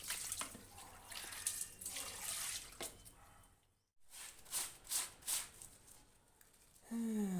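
Clothes are washed by hand with water, with splashing, sloshing and wet squishing in bursts that pause briefly midway before resuming, fairly close and soft.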